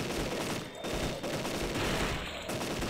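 Rapid bursts of gunfire from the survival video game Deadly 30, a dense, continuous fusillade of shots with only brief dips, loud and close throughout.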